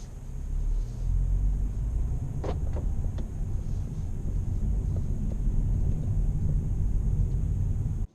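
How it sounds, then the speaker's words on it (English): BMW X2 sDrive20i driving on the road, heard from inside as a steady low engine and tyre rumble with a faint high whine and a few brief clicks. "Driving along in the X2,"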